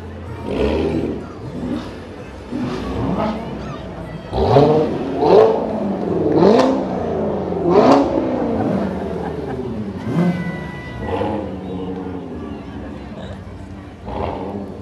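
Corvettes from a Corvette club rev their engines in a 2020 Christmas parade in St. Cloud, with repeated loud rising-and-falling roars, several close bursts in a row, and voices talking underneath.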